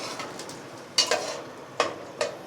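Finely chopped onions fry in hot oil at a soft, steady sizzle, with three sharp metallic clinks of a utensil against the pan spaced across a couple of seconds. No voices.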